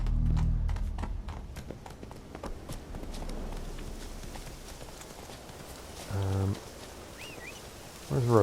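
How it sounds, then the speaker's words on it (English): Horse hooves clip-clopping in The Witcher 3: Wild Hunt, a run of rapid hoofbeats at first, then quieter steps under game ambience, with brief speech-like bursts later. "Now I want to follow the horse and see what the horse is going to do."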